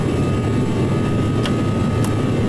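Airliner engines spool toward takeoff thrust in Microsoft Flight Simulator X, a loud steady roar with a constant hum, briefly marked by two faint clicks.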